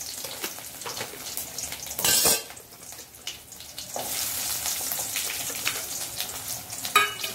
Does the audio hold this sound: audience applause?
no